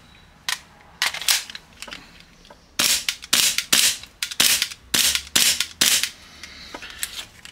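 An airsoft Hi-Capa pistol fitted with a pink COWCOW loading nozzle fires about a dozen sharp, close cracks, first spaced out, then in quicker irregular clusters, ending with one last faint shot.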